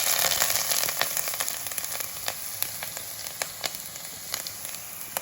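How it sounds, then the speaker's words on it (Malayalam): Chopped garlic, ginger and green chili sautéing in hot oil with fenugreek for a chili fish curry, giving a steady close sizzle with scattered crackles and pops, no talk. "എല്ലാം ഇട്ടൊന്ന് വഴറ്റി എടുക്കും."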